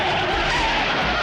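Tires of a large courier truck screech and skid as it swerves on a freeway, a loud continuous squeal filling the moment, no talk.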